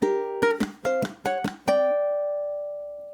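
A ukulele plays a last-measure walk-up in a duet arrangement: six quick plucked notes stepping along before a final note rings out and slowly fades, close and alone.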